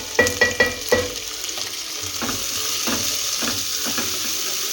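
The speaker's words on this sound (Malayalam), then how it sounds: "നല്ലപോലെ ഇളക്കി ഒന്ന് നല്ലപോലെ ഒന്ന് വഴന്ന് വരണം കേട്ടോ." Onions sautéed in a pan for egg biryani: a few sharp spatula knocks at first, then a steady, fairly loud sizzle with intermittent stirring scrapes, close up and without talk.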